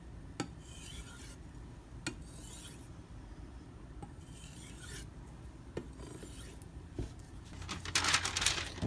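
A Karaku AS 210mm gyuto knife being sharpened on whetstones, giving a steady close rasping scrape of repeated strokes with sharper taps between passes and a louder grinding burst near the end.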